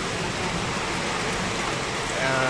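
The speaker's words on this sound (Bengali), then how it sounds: "প্রচুর বৃষ্টি হচ্ছে।" Heavy rain pours down in Nagarpur, Tangail, Bangladesh, a dense, steady hiss of drops hitting surfaces that stays loud and unbroken throughout.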